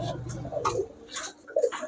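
Giribaz highflyer pigeons in a shop, with a few soft, brief coos and rustles in quick succession, close and fairly quiet amid faint ticking.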